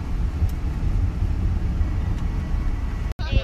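A car carrying wedding-day passengers rolls along with a steady low engine and road rumble heard from inside the cabin, then a brief cut near the end.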